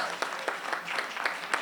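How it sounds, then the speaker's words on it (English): An audience claps at a Lyttelton port privatisation rally, a moderate scattering of hands with a few sharper individual claps standing out in an uneven rhythm, brief and fairly close. "Let's have a round of applause, people."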